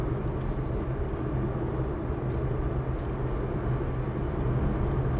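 Steady outside road noise comes through an open window of a Wuling Air EV while driving, a continuous low rumble of tyres and passing traffic with no talk.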